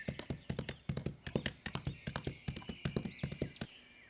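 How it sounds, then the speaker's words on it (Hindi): Rapid clip-clop hoofbeats of a horse running off, a steady galloping rhythm of sharp close taps lasting several seconds, used as a sound effect in a Hindi animated story. "इतना कहकर घोड़ा भी वहां से भाग गया।"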